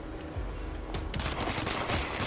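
A rapid volley of gunfire from the video game Control, crackling bursts stacking into a dense, fairly quiet stretch of shooting.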